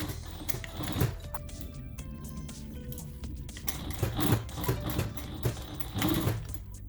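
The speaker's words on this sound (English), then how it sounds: "I sew it all up." A sewing machine stitches straps onto a homemade insulated lunch box, its rapid needle chatter running close and steady with short bursts and slowdowns, no voices.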